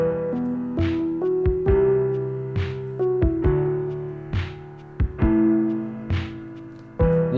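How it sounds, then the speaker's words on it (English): A halftime drum groove from a Battery software drum kit, low-pass filtered so the hits sound muffled and dark, with sparse heavy kicks and snares under a sustained moody keyboard line, steady and close. "Underneath that, I added this halftime groove on a drum kit from a program called Battery."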